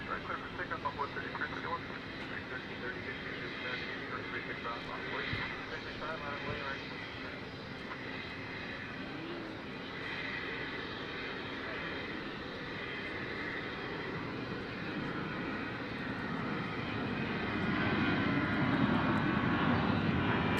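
Airliner arriving from Chicago O'Hare landing on runway 36 left at DFW airport, a steady distant broadband engine roar that swells louder toward the end, with people talking over it.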